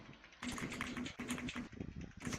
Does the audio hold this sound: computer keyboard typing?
yes